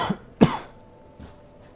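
A person has a brief coughing fit: a couple of sharp, close coughs in quick succession, then a softer cough a moment later, with no talking.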